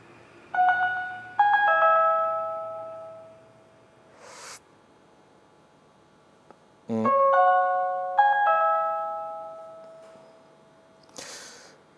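A Dagger DX echo pedal shapes a few clean plucked guitar notes that ring out clearly with the dry signal dominant, the repeats trailing softly behind, followed by brief gaps between two short phrases.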